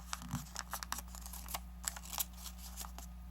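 Sheets of paper being creased and folded to make an origami shopping bag with a hanbok pattern: a series of close, crisp crinkles and sharp taps at uneven intervals over a steady low hum.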